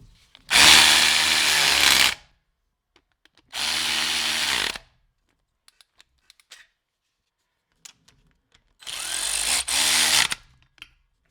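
A Durofix G12 12V extended cordless ratchet tightening a bolt with a 12 mm socket, three loud close whirring bursts of a couple of seconds each, separated by quiet gaps with small clicks.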